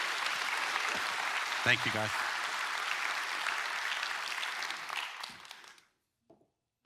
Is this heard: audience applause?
yes